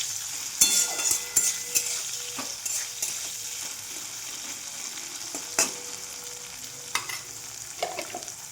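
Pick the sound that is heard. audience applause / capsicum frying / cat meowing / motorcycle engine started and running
capsicum frying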